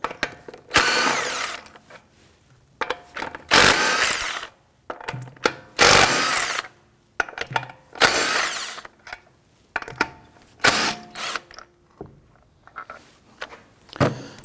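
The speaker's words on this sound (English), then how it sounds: "Using our 19mm socket, we're going to loosen and remove the lug studs." Power tool with a 19mm socket spinning off the wheel lug studs on a 2001-2009 Volvo S60, five or six loud, close bursts of a few seconds each, separated by short pauses and small clanks.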